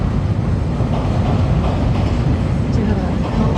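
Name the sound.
Chicago L train crossing a bridge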